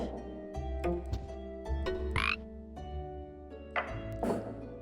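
Cartoon frogs in the Storyteller video game croak in short, repeated bursts over a soft game music bed, with a few chirpy accents in between.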